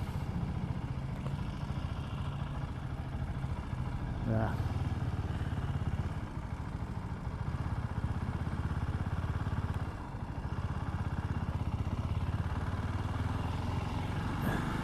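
A Harley-Davidson motorcycle engine rumbles steadily at close range, a low continuous idle with brief surges, and a voice talks faintly over it.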